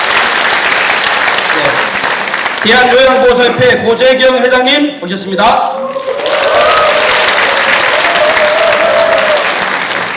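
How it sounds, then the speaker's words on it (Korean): Applause for arriving guests at a national policy seminar on long-term care, heard as steady clapping that fills the room before and after a man's amplified announcement, the crowd's clapping swelling loudly again at the end. "박수 한번 부탁드립니다."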